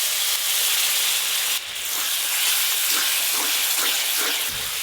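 A wet paste of melon seeds and poppy seeds goes into a hot pan and sizzles with a loud, steady hiss that drops briefly and resumes, with faint spoon scrapes underneath.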